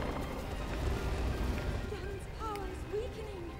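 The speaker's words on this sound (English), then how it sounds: "Go faster, horse." A horse gallops steadily in the video game Zelda Breath of the Wild, its hooves drumming in a continuous fast rhythm while someone talks over it.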